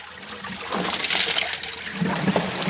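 Water gushes and trickles out of a very large gold sluice box as its water seal is broken, building into a steady rushing pour with splashy bursts. Close and fairly loud, with no talking.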